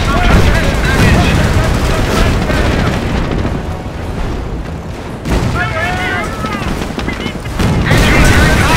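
Dense battle gunfire from the World War II strategy game Company of Heroes: Opposing Fronts, with booming explosions and rattling shots running continuously and loudly, while game voice lines call out orders now and then.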